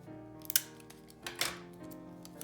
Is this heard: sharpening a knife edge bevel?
no